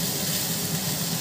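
Chicken with salt and turmeric frying in a pan, a steady, close hiss of sizzling oil that holds evenly throughout with no talk.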